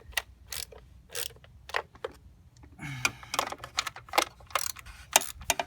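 A wrench tightens the valve cover bolts on a BMW 535i during a valve cover gasket job. Quiet, close clicks and short ratcheting bursts come in irregular clusters, with a longer rattling stretch in the middle.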